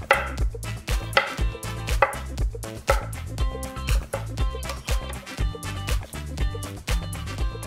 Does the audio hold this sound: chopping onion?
yes